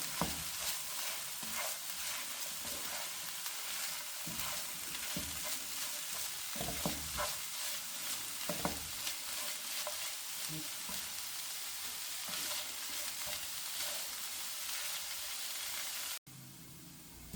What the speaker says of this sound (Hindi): 2 से 3 मिनट इसको हमने अच्छे से फ्राई कर लिया